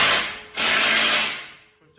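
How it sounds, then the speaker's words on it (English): Bolts on the APR turbo-back exhaust of a Golf MK6 R are tightened with a tool, giving a loud, close, continuous ratcheting rasp with a brief break partway through. "It's just tightening up the lower bolts there."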